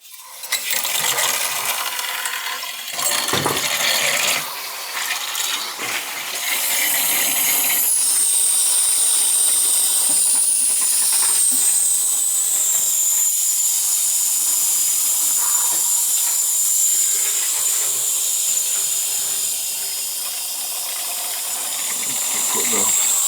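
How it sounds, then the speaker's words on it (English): Air hisses steadily out of a newly installed gas boiler system, a continuous close hiss. Clinks and knocks of handling come first, and a faint high whine comes and goes. "I can hear all the air coming out."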